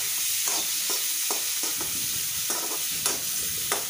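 Chopped onion sautés in a pan for a simple tawa pulao, a steady loud sizzle with repeated scraping stirs every half second or so, no voices.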